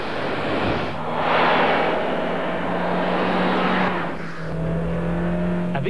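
A Suzuki Jimny's small 1300 cc 16-valve engine revs hard and noisily, rising and falling in pitch as it pulls up through the rev range, close and loud with no voices.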